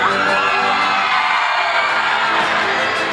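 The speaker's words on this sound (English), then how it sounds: "Centurions in this RMA, give me your best cheer!" Crowd at a film festival awards night cheering and whooping loudly, a dense continuous roar of many voices with scattered high yells, sustained throughout.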